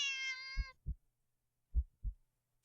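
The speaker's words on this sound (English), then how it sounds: "Cat meows at you again, but it sounds much deeper than earlier" A cat in a video game gives a single deep, drawn-out meow, followed by a few soft, low thumps in an otherwise quiet scene.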